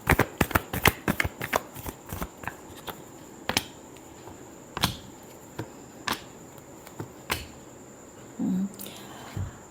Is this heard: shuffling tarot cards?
yes